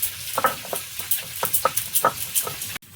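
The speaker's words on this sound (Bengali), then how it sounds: "এদিকে মাছ সব ভাজা হচ্ছে" Fish frying in oil in a wok, with a steady crackle broken by a quick rhythmic run of scraping, stirring bursts, then a brief cut near the end. No voices.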